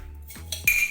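Crispy homemade granola being mixed, a few sharp clinks and crunchy rattles of utensil against bowl, close and clear, in short bursts over about a second.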